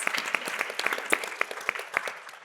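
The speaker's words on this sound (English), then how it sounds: "Let's give him a round of applause." Audience applause closing a panel discussion at a state leaders' conference, a dense steady patter of many hands clapping at moderate loudness throughout, with no talk over it.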